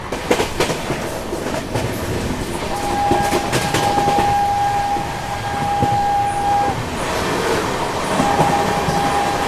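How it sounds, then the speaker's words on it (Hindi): A Rajdhani Express train bound for Dibrugarh passes on the crossing track, a steady loud rolling rumble with clattering wheels and a long high squeal running through the middle, heard from aboard another train. "साथ में अब आ रही है राजधानी ट्रेन, तो आज डिब्रूगढ़ जाने वाली, उनकी क्रॉसिंग लेते हैं।"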